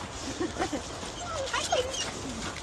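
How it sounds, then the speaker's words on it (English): A friendly dog on a muddy morning walk makes short whimpers and whines, faint and close, under people talking and outdoor background noise. "The dog up there."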